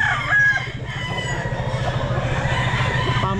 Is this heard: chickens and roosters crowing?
yes